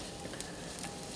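Mushrooms stir-fried in a pan over high heat, a dense, steady sizzle with faint scraping of stirring, close and continuous.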